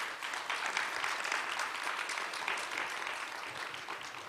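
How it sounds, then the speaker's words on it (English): A conference audience applauds its panelists with dense, steady clapping that holds for several seconds and fades slightly toward the end, with no speech over it. "Let's give a round of applause to our panelists today."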